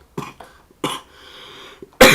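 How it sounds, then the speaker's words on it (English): A man coughs several times in short, separate bursts, close to the microphone and loud, with brief pauses between them and a harsher burst at the end. "got a bit of a cough"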